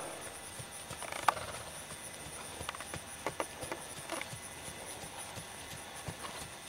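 A racehorse walking to the track, its hooves clip-clopping in an irregular rhythm of sharp knocks, moderately close against a quiet background.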